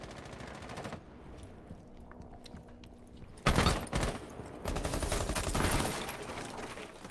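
Rapid gunfire in a tactical shooter match, with faint clicks early on, then a loud sustained burst of automatic fire and repeated shots through the second half.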